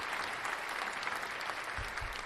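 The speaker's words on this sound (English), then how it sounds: "we'll give you a round of applause" A studio audience claps in steady applause, even and sustained, at a fairly soft level with no voices over it.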